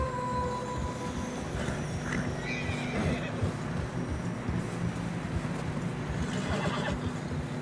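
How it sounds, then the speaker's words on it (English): Horses in the snowy mountains of Red Dead Redemption 2 neighing and whinnying over soft, continuous hoof plodding through deep fresh snow, set against a low steady wind and ambient drone. "Horses are struggling."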